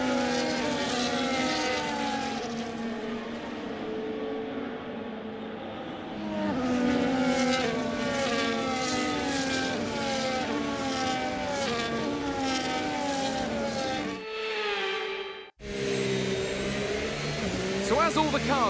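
Race car engines in the F1 25 video game drone continuously during a formation lap, several cars' tones rising and overlapping at moderate level while a commentator talks over them.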